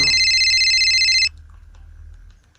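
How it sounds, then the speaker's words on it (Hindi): A phone rings with a loud, steady electronic tone for just over a second, then cuts off abruptly, leaving only quiet low room hum. "फोन आ रहा है"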